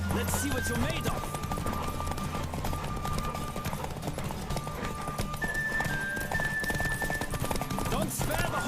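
Galloping horse in a Witcher 3 race, steady close hoof clatter running the whole time, a neigh now and then, layered under orchestral game music.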